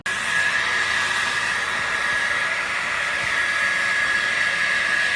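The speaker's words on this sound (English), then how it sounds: "we've got the hair system cut, and Megan is just drying it" A hair dryer blows steadily on a cut non-surgical hair replacement system, a loud, continuous close-up whoosh with a faint high whine and no breaks.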